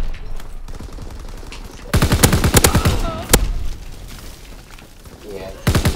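Automatic weapon fire from a BAR and a PPSh in the World War II shooter Call of Duty WWII, rapid close bursts of shots in two main volleys with a louder single crack between, under a voice talking.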